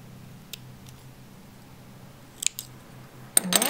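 Scissors trim off embroidery thread with a few short, crisp snips that come mostly toward the end, over a quiet, low background hum.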